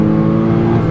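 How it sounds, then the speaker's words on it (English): Porsche 987 Cayman S with VarioCam under hard acceleration, a loud, close engine note blending intake and exhaust with a rising, layered harmonic whir held steady throughout. "do you get a cacophony of lovely intake noises and exhaust noises and whirring noises."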